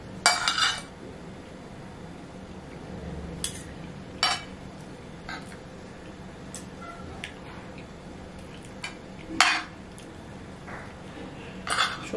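Sparse, faint clinks of cutlery against dishes during a home meal of dal and jackfruit, scattered light taps separated by quiet gaps over a low room hum, no talking.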